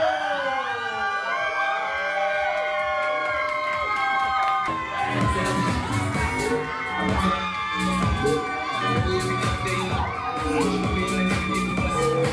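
A nightlife party crowd in Seoul cheers and shouts loudly throughout, with high-pitched whoops and screams rising over a dense, continuous roar.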